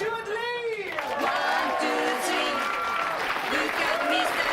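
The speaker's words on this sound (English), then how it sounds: "Please, put it together with a loud glass cheer" Comedy club audience welcoming comedian Stewart Lee with sustained applause and cheering, a dense steady wash of clapping under a voice talking over it.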